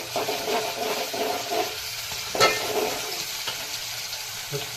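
Onions and tomatoes with chillies fry in butter in a pan, giving a steady close sizzle with stirring scrapes and one sharper clatter partway through.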